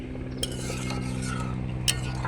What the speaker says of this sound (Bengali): ঝুড়ি আমের আচারটাকে আমি নাড়াচাড়া করে নিচ্ছি এইভাবে।